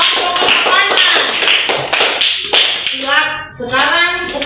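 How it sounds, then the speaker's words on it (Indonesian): A classroom of students applauds a student group after its presentation, a burst of many hands clapping while voices talk and call out over it. "Tepuk tangan untuk kelompok kesopanan."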